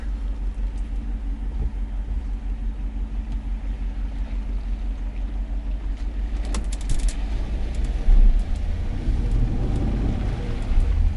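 A Jeep Wrangler 392 with its sway bar disconnected creeps slowly over logs off-road, its engine a low steady rumble throughout with occasional thumps and scrapes from the tires and body.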